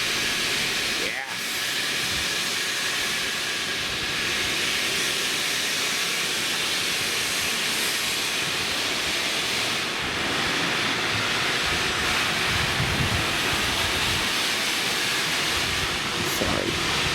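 Open drain cocks on a steam locomotive blast a continuous roaring hiss of steam on a cold day, loud and close throughout. A faint voice sits underneath.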